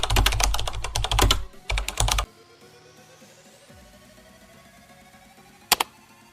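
Close, quick bursts of keystrokes on a computer keyboard as a search is typed into a browser search bar, two clusters of rapid clicks followed by quiet, then a single short double tap near the end.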